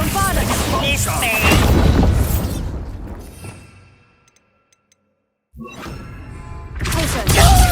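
A Bombarda spell explosion in the PS5 game Hogwarts Legacy, with loud booming, shattering bursts and dense debris noise amid character voices, fading to near silence before another loud burst of action returns.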